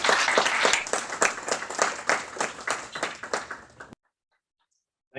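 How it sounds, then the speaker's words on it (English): Audience applause closing a moderated academic discussion, a modest room of distinct claps that thins and stops abruptly, followed by near silence and a brief sound at the very end. "Could we please get one more round of applause for our two speakers?"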